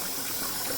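Milky rice-rinsing water pours off in a short, dense, continuous gush, loud and close, with no voices.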